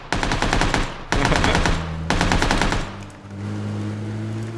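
An AK rifle in PUBG fires three loud, close full-auto bursts of about a second each, followed by a lower, quieter hum.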